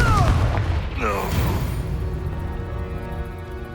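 Confringo fire-spell blast in Hogwarts Legacy, a loud deep boom with a brief whooshing burst, then a rumbling low tail that fades slowly.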